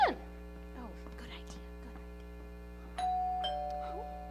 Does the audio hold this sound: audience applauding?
no